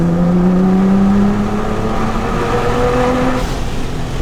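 Nissan GT-R engine pulling hard on a snowy highway, a loud, close, rising tone climbing steadily through the gears with a continuous roar and no talk.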